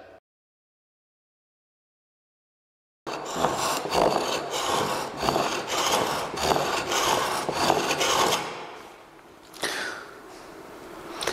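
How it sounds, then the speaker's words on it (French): A toothing plane, a cabinetmaker's plane, scores grooves into a wooden surface with a run of rhythmic, rasping strokes after a few seconds of silence, then eases off into a few lighter scrapes near the end. "Donc ce rabot, c'est un rabot à dents."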